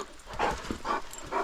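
A hunting dog, a red dog being readied for a rainy-day dove hunt in the North Carolina mountains, gives three short excited barks or yelps spaced about half a second apart, close and moderately loud, with no talking.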